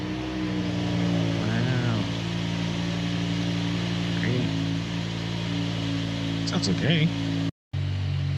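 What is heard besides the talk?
car engine cold start and idling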